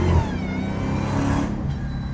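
A catless Dodge Hellcat accelerates onto a freeway, its engine noise a loud sustained roar close by with a rising whine, easing slightly toward the end.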